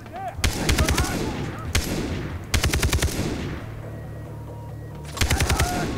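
Bursts of heavy automatic gunfire from a ship in the video game Far Cry 3, rapid rattling volleys in several separated bursts with rolling echoes between them.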